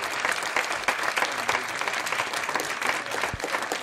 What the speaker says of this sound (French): que je vous demanderai d'applaudir très très fort